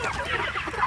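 Chickens on a farm cluck in a steady, busy chatter throughout a short moment, close and fairly loud, with no voices over them.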